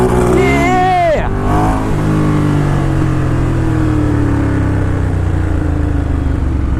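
A Ducati Diavel cruiser motorcycle accelerates hard, a loud rising engine note climbing through the revs before it holds a steady drone of fast riding with wind roar.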